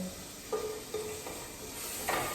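Food frying in a home kitchen pan with a masala powder just added, a soft steady sizzle broken by a few light scraping stirs, fairly quiet and close.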